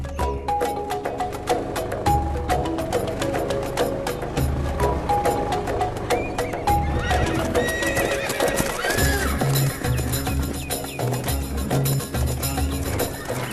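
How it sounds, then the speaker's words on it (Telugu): Horses neighing repeatedly with clip-clopping hooves on hard ground, loud and close, with several whinnies rising above a steady trot and a scene's dramatic background music. "ఇన్ని గుర్రాలు?"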